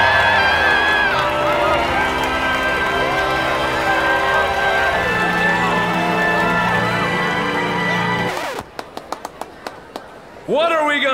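Animated crowd cheering for Talking Tom at a mayoral campaign rally, loud and sustained with many overlapping voices, ending in a quick series of sharp rhythmic claps before a voice comes in.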